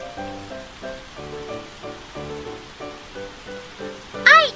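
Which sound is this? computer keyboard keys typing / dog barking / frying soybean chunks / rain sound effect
rain sound effect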